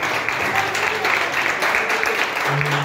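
Church congregation applauding during a Saturday worship service, steady broadband clapping filling the room throughout, with some music or voices underneath and a brief tonal note near the end.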